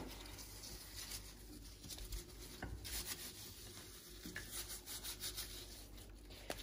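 Hands rubbing salt and seasoning into raw beef short ribs before slow cooking, a soft, steady rasping friction that runs close and continuous with faint bursts of stronger scrubbing.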